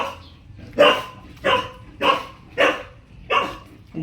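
Small puppy yipping and barking at a home, five sharp, bright barks spaced roughly evenly over a few seconds, fairly close and alone with no talk.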